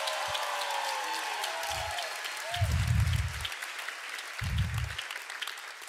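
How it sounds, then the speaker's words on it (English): An audience at an inspirational talk claps steadily for several seconds, a dense, continuous wash of applause filling the room, with a speaker's voice breaking through over it in short bursts. "clap for him if you know he'll come through"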